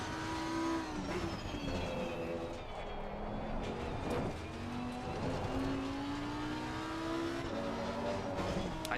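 Lamborghini GT3 race car lapping Kyalami in the Pitskill.io racing game, engine droning steadily with rising and falling pitch through gear changes and corners, continuous and fairly loud, with a faint voice talking underneath.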